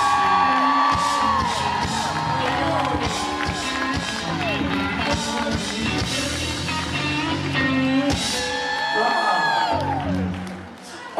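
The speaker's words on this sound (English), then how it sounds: "Ladies and gentlemen, round of applause for Mr. Rob Benedict." A crowd at a Supernatural fan convention in Dallas cheers, whoops and applauds as an actor is welcomed on stage, with shouted voices and clapping mixed loud and continuous.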